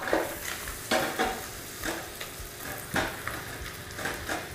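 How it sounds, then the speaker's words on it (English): Onion rings cook slowly in butter in a pan for French onion soup, a soft close sizzle broken by regular scraping stirs about once a second. "very slowly caramelize these onions"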